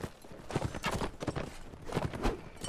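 Horse hooves clip-clop in Mount & Blade: Warband, a steady walking rhythm of soft repeated hoofbeats running continuously for a few seconds, close and moderately loud with no talk over it.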